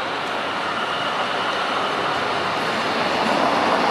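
A CPTM PR22 diesel locomotive maneuvering at Lapa gives a steady, loud rumbling roar with a broad, continuous wash of engine and rail noise and no breaks.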